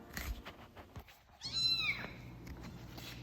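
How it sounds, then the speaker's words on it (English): Month-and-a-half-old farm kittens meow inside a farm shop, several high, wavering cries at close range over a low background rumble. "here's some of my farm kittens that were born just about a month and a half ago"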